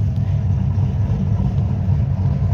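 A Shelby GT350 engine rumbles loud and close at an outdoor summer car show, a deep, steady throaty growl with slight surges but no sharp climbing rev.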